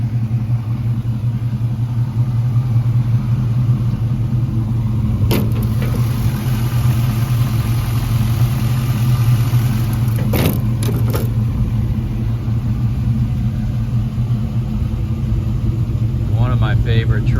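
An LS1 5.7 V8 swapped into a 1945 Chevrolet 3100 pickup idles with a steady low rumble, a few brief clicks and knocks breaking in, and faint talk in the background.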